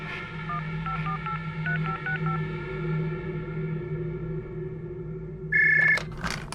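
A telephone number being dialed, a quick series of short keypad tones under a low background hum, followed by a brief louder ringing tone near the end, with no speech.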